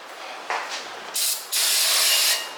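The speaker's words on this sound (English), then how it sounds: "just your standard brake cleaner" Standard brake cleaner sprays onto a car's front brake rotor in short aerosol bursts, two quick hisses followed by one longer steady spray, close and sharp.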